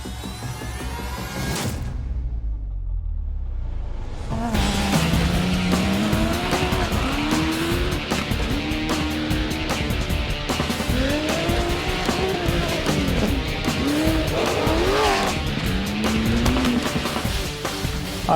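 Off-road race cars at the ARB Griffith 400 event in Australia, loud engines roaring and revving steadily, gears shifting with rising and falling pitch, after a brief lull near the start, constant and close.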